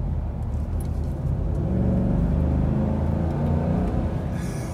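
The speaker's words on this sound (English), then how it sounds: "This is a really cool truck engine." A 2021 Ford F-250 XL regular-cab long-bed pickup with the 7.3L V8 accelerates on the road, its deep, steady engine rumble holding loud and close throughout with no talking.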